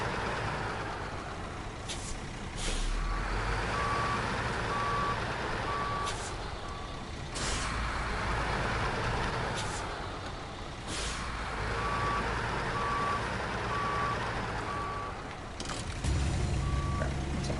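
In the SnowRunner video game, a truck's reversing alarm beeps in regular repeating runs over a continuous engine rumble, with occasional air-brake hisses and clunks.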